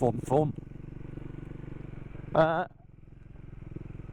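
A Triumph 400 Supermoto motorcycle engine drones steadily while riding, a low, even hum running underneath that carries on throughout, with someone talking over it at the start and briefly again midway.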